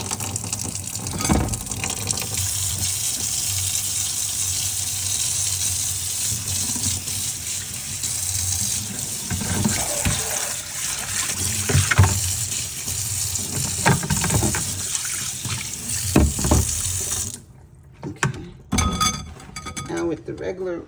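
Rice water pours and splashes through a strainer, a steady rushing trickle with clinking that runs continuously before stopping abruptly near the end, followed by a few faint handling sounds.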